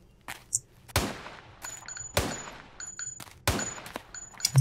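Game gunfire from Kio's Adventure: several sharp shots spaced about a second apart, each followed by a short ringing tail, with small chiming tones between them.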